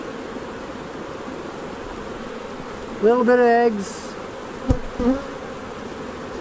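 Honey bees hum in a steady, close drone while a spring hive frame is inspected, the buzzing running continuously beneath a man's brief spoken remark.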